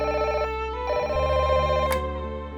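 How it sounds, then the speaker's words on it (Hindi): A landline-style telephone rings in a Hindi TV serial scene, a steady electronic trill repeating in bursts with a brief pause, fairly close and clear with no talk over it. "कियारा मैडम का फोन था।"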